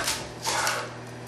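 A knife slices through a yellow onion on a cutting board, cutting it into quarters, with a few close, crisp chopping strokes and a sharper knock near the end.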